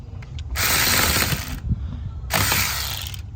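A ratchet turns 13 mm bolts on a truck U-joint in two bursts of rapid clicking, each lasting about a second, with a short pause between them, close and fairly loud.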